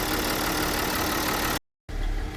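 A car engine idles steadily at close range, a dense continuous rumble that cuts out briefly before resuming.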